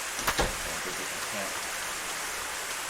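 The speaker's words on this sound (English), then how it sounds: "Oh crap. It's raining." Steady rain falls throughout in the video game YOU and ME and HER, a constant broadband hiss with a brief louder burst near the start.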